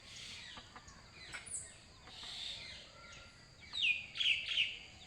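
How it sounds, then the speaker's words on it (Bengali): Birds chirp outdoors in a calm setting, scattered high calls at a distance that grow into a few sharper, closer tweets toward the end. "ওদিকে পাখিও ডাকাডাকি করতেছে।"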